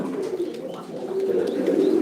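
Pairs of fancy Baghdadi and Uma pigeons give a steady, close, murmuring coo that swells and fades over a couple of seconds.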